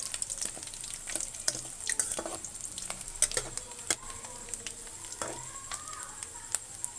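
Chunks of beef fat frying in a pan as their oil renders out, giving a close, steady sizzle peppered with sharp crackles and pops throughout.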